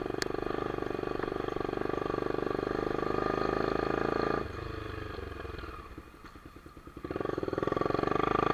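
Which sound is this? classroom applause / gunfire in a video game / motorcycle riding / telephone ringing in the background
motorcycle riding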